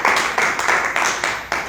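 Congregation in a church applauding, a short run of rhythmic group clapping with pulses roughly every fifth of a second, close and fairly loud.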